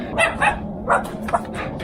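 A dog barks a few times in quick succession during a truck front-end lift kit install, the sharp yips standing out over a low steady background hum.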